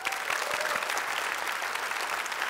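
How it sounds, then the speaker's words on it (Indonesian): Dense, steady applause from a mall audience at a comedy show, loud and continuous throughout with a crowd clapping as one wash of sound. "Tepuk tangan buat Dude and Dudes dong"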